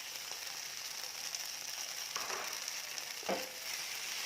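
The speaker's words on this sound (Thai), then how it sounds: "เราจะคั่วให้มันแห้ง ๆ เลยนะคะ" Shanghai noodles with vegetarian pork stir-frying in a pan give a steady, bright sizzle, broken by two short scraping stirs of a utensil.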